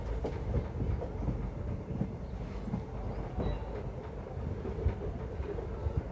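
Indian Railways train running on the line, with a soft, continuous rattle and clickety-clack of wheels heard from on board; no talking.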